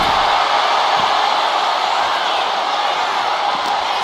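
A wrestling arena crowd in the video game WWE 2K25 roars as a continuous, loud, hissing wall of cheering with no distinct breaks, filling the space evenly.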